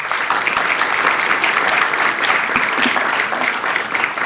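A big round of applause at a city council meeting, dense steady clapping from the room, loud and unbroken for the whole stretch with no speech.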